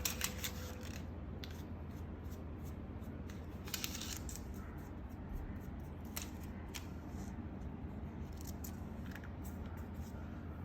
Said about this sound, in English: And the extra paper we will be trimming.